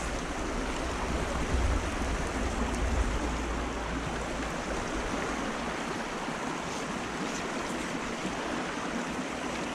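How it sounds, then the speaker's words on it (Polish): A mountain stream by a beaver dam babbles and rushes steadily nearby, a continuous wash of water noise with no other sounds. "Górski potok. Nie wiem, czy coś słychać tak szemrze"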